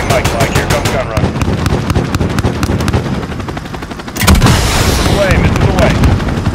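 Aircraft gun run in Call of Duty: Modern Warfare: rapid, sustained automatic gunfire with sharp repeated bursts, swelling into a louder roaring blast of impacts midway, with radio chatter mixed underneath.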